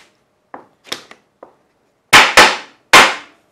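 A few light taps followed by three loud, sharp hammer blows on a wooden cross cut sled ringing out close by, each striking with a hard crack and brief decay.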